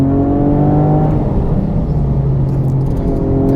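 Cabin view of a car lapping the wet Nürburgring: a loud, steady engine drone with shifting pitch and constant road and tyre roar, with no speech over it.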